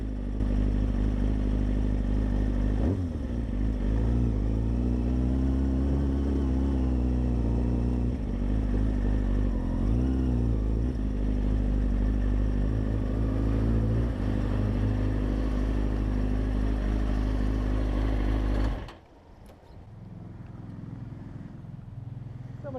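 A Kawasaki ZX6R motorcycle rides slowly around a house, its engine a steady close drone with a few revs rising and falling, then cutting off abruptly near the end, leaving a faint background.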